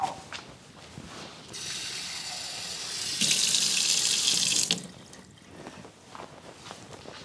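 Water runs from a kitchen tap to add liquid to a dry kamut wheat dough, a steady broadband hiss rising and holding for a few seconds before stopping, with quieter handling sounds around it.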